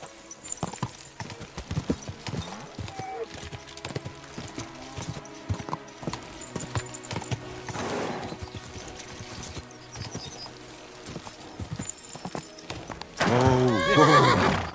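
Horse neighs and clip-clopping hooves in the video game Kingdom Come: Deliverance 2, steady hoofbeats running throughout, then a loud close whinny near the end, with faint talk in the background.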